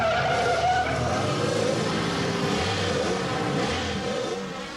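A street car and a street bike launch on a race track, tires skidding and squealing as engines rev hard, the loud roar sweeping along and easing slightly toward the end.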